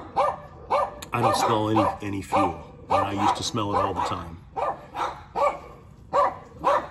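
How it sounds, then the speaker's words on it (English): Dogs being walked past a parked VW bus in the early morning give short, repeated barks at intervals, partly under a person talking close by. "Someone's walking by with their dogs."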